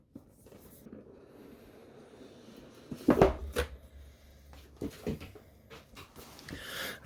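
Unboxing an 8BitDo Retro Mechanical Keyboard, with cardboard and packaging scraping, sliding and thudding in irregular bursts, close up, the loudest rustle coming midway.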